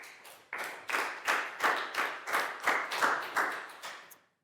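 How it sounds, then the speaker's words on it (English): Classroom of young pupils clapping for a classmate in a bursty, rhythmic pattern, roughly eight quick swells of hand claps in unison, fairly close and loud, ending abruptly with no talk. "Big round of applause for Pat,"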